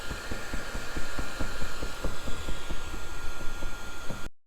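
A heat gun blows steadily while boat decals are softened and scraped off, a continuous close whooshing roar with a faint rhythmic thumping underneath, running without pause until it cuts out abruptly near the end.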